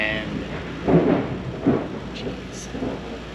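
Thunder rumbles low and deep in a couple of rolling swells before rain arrives, heard outdoors against a steady hiss of background noise.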